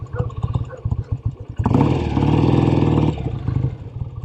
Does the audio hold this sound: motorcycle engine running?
yes